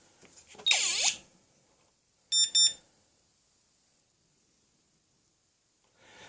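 A Dragonlink radio control transmitter gives a no-connection alarm: a short electronic warble, then a quick double beep a second later, sharp and close in an otherwise quiet room.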